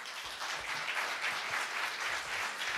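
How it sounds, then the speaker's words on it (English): An audience at a Seattle candidates forum gives the executive committee a round of applause, a steady wash of many hands clapping together at moderate distance with no voices over it. "let's give them a round of applause"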